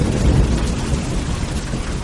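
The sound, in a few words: thunder sound effect in audio drama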